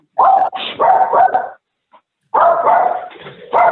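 Dog barking excitedly through an unmuted microphone on a council meeting call, loud close yaps and woofs in quick bursts, a pause, then another run of barks.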